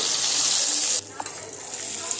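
Hot oil with fried cumin sizzles loudly, then drops sharply as a marinated yogurt-spiced mixture goes into the pan, leaving a softer bubbling hiss with a small clink.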